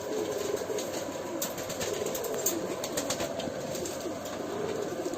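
Pigeons, including a green hen pigeon of a high-flying Jammu breed, coo softly and steadily from a loft, a low continuous murmur with faint rustling around it.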